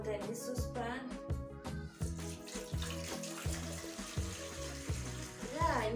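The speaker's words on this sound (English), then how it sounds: "Now I'm going to add little water in this saucepan." Water poured into a saucepan in a village kitchen while preparing cassava, a continuous splashing, gurgling stream heard close with some clatter.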